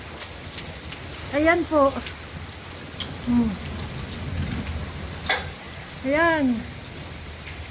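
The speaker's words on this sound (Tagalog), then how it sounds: "Umuulan po ng yelo dito sa Morocco ngayon." Hail falling in Morocco, a steady dense patter and crackle of ice pellets on surfaces filling the background throughout, with someone speaking briefly over it.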